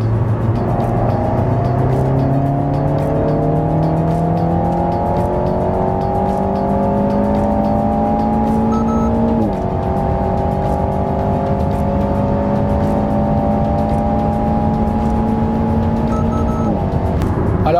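An Alpine A110S with a seven-speed dual-clutch automatic, in track mode, accelerates hard. The engine note rises loud and steady through the gears, with a quick shift near the middle and another near the end, and no voices.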